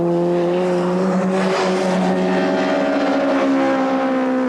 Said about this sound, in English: wringing the last ounce of horsepower out of the Cosworth engine